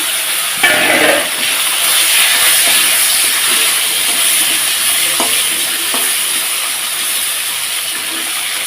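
Crushed garlic and taro stems sizzle steadily in hot oil in a pan, a continuous bright frying hiss with a scraping stir early on and a few faint utensil clicks.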